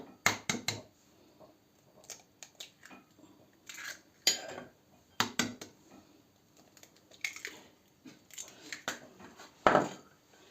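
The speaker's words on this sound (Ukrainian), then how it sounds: "Так, убиваємо сюди два яйця." Two eggs cracked against a bowl's rim and dropped in, with sharp taps and clinks of shell and dishware in short bursts, up close and without any talk.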